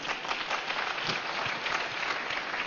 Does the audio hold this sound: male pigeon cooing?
no